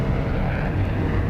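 A Cold War spy plane flying overhead in 1962, its engine a steady, broad low roar that holds constant throughout, with no voices present.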